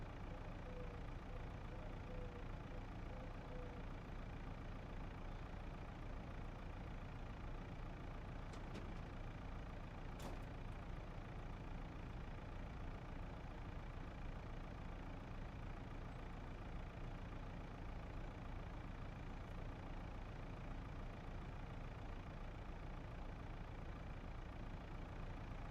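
A tractor engine idles in the Farming Simulator 25 game, a steady, low, continuous drone that holds unchanged for the whole stretch, with a couple of faint clicks and no talk.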